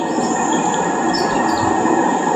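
A small amusement-park train at Adventure Land in Narayanganj runs along its track, a continuous loud close rumble with a faint metallic wheel squeal riding on top throughout.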